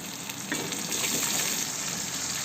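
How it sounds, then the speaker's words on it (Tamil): Onions and garlic sautéing in a pan for Tamil fish gravy, a steady close sizzle with stirring that grows slightly louder after the first half second, with no talk. "இப்போ வெங்காயம் நல்லா வதக்கி வருது"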